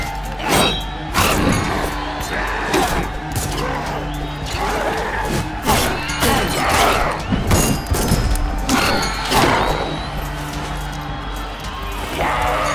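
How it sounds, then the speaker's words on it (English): Blaster fire in the game Tails of Iron, a series of sharp bursts and thuds repeating irregularly over a busy battle mix with clanks and crowd-like background noise. "Blasters make short work of most enemies."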